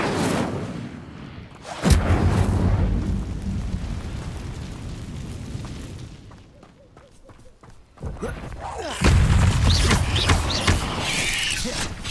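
Incendio fire spell cast in the Hogwarts Legacy video game, with loud booming bursts and roaring flame blasts up close, repeated in heavy waves amid rumbling combat effects.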